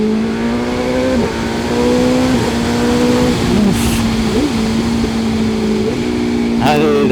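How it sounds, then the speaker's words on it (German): A 2025 BMW M1000R Competition motorcycle exhaust roars loudly and close, holding a strong steady drone with a few quick rev changes and sharp crackles near the end. "Diese Schläge, die da aus dem Auspuff kommen, es ist brutal."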